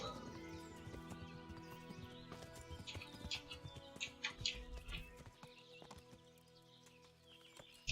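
Horse hooves clop in a steady rhythm on a riding horse in the medieval video game Kingdom Come: Deliverance, loud and close with no talking, swelling in the middle before easing off and thinning out near the end.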